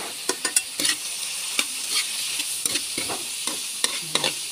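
Pan stirring and frying of black beans with paprika and black pepper for a bitter gourd, milkfish and tofu dish, with scattered scraping clicks over a steady sizzle.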